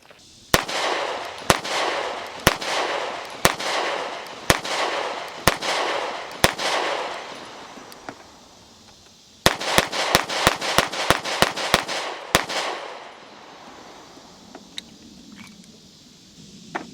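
An AF1911 S15 9mm pistol with an aluminum frame, fed from a Glock magazine, fires a steady string of about seven sharp shots, then a quicker volley of around nine, loud and close.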